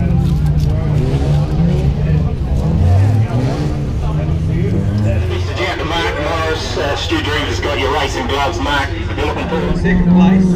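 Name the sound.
sprint car engines at race track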